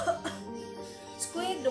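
A narrator's voice imitates the wolf's short, soft cough in a telling of Little Red Riding Hood, with a few quick throaty bursts amid faint vocal sounds.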